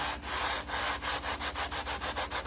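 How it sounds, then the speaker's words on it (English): Rhythmic hand sanding on the inside of an acoustic guitar top or back, steady back-and-forth full scratchy strokes repeating about four times a second, close and alone. "So sanding the inside here and then full strokes."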